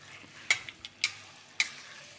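A paste of onion, tomato, ginger and green chilli fries in oil and is stirred together in a pan for a Bengali aloo dum. A faint, low sizzle runs throughout, broken by three sharp, evenly spaced spoon clicks, close and without speech.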